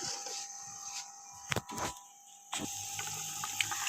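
Water is poured into a pot of soaked rice while cooking chicken pulao, giving intermittent splashing and gurgling bursts up close that swell and fade over a few seconds without speech.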